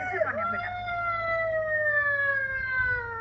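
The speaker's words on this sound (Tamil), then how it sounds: "இது என்ன ஆம்புலன்ஸ்?" An ambulance siren wails nearby in a long, slowly falling tone, with brief voices at the start.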